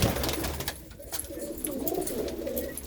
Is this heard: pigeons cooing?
yes